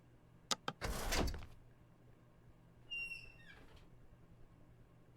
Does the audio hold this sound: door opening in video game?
yes